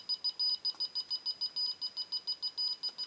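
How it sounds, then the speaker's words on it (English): An Arduino-built burglar alarm beeps indoors in a steady, rapid series of short, high-pitched electronic pulses, about five per second, continuing without a break at moderate level with no talking. "the alarm's going off"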